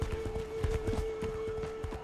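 Horse hooves clip-clopping in the game Age of Wushu, a quick steady run of light hoofbeats, faint and moderately distant, with a constant tonal hum underneath.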